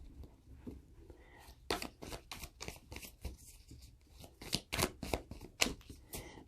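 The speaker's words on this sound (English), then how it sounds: "This needed to get shuffled really well" A deck of tarot cards riffled and shuffled over and over at close range, with rapid papery bursts that come in an uneven rhythm.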